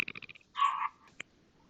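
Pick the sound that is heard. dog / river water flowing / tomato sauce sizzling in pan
dog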